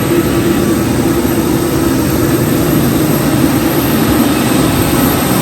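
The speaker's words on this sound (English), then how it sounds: "I love being this close to the airplane." Jet airliner engines roar close by on an airport apron, a loud, constant whine and low rumble with no break, heard from near the aircraft under the wing.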